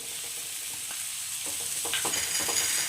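Dried shrimp and browned onions sizzle in a pan for a Konkani dry shrimp chutney, a close frying hiss that grows louder toward the end with quick stirring scrapes and clinks.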